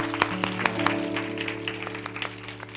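A church college-group congregation claps in thanks during a Sunday service, scattered moderate hand claps over a steady sustained organ-like tone, with no voices.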